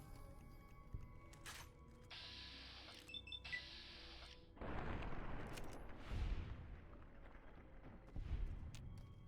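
A shotgun blast in the World War Z video game, following stretches of mechanical game noise and beeps: a sudden heavy burst of broad noise, with booming echoes after it.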